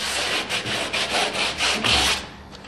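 A foam block wrapped in 60 to 80 grit sandpaper rubs back and forth over a homebuilt sailboat hull, leveling rough spots and cloth overlaps in resin. Close, rhythmic rasping strokes come about four or five times in a few seconds, with no talk.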